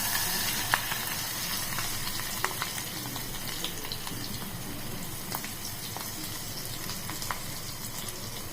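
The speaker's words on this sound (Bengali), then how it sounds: "ব্যাটারে চুবিয়ে আর ওই গরম তেল তেল গরম করতে দিয়েছি ওখানে দিয়ে দেবো" Egg pakora dipped in batter frying in hot oil, a soft continuous sizzle and bubbling with occasional faint clicks, low in level and close up.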